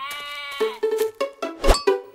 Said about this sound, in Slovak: neviete, čo sa stalo tej ovci v kúte ohrady?